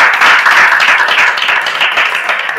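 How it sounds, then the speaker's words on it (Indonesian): A studio audience at a podcast recording applauds a school robotics team, giving steady, dense clapping from many hands that stays loud and even throughout, with no pauses. "Tepuk tangan dong."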